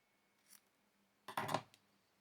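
Scissors trimming ribbon to length for wedding invitations, a faint snip followed by a louder crisp double cut, close and quiet with no talk.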